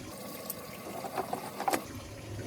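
Water trickling and gurgling as it drains from the tank of a water heater in a 2021 Keystone Cougar fifth-wheel RV, faint and irregular with small splashy bursts.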